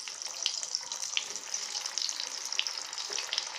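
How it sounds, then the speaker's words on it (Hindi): Bread-wrapped balls deep frying in hot oil in a kadhai, giving a steady, close crackling sizzle with tiny pops throughout and no talking. "अब इसको हम डीप फ्राई करेंगे"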